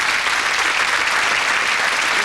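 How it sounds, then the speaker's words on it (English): A studio audience at a 1985 television magic show applauds a volunteer coming onstage, giving dense, loud, continuous applause that fills the whole moment without speech. "Round of applause."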